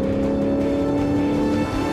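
Maserati GranTurismo Sport with a Ferrari-built engine revving, a loud steady engine drone with strong low harmonics, heard close and alone without talk.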